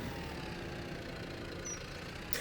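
A tractor engine idles in Farming Simulator 25, a steady low mechanical rumble that holds even and unbroken throughout, close and fairly quiet with no talking over it.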